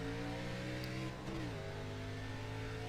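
A race car in iRacing's ARCA Menards Series at Nashville accelerates at a restart, the engine droning steadily with a brief dip and shift around the middle before climbing again, fairly quiet overall.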